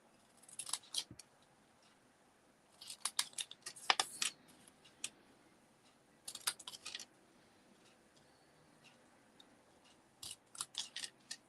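Scissors trimming paper for a craft project, several short clusters of crisp snipping and cutting close by, with quiet gaps between them and no speech.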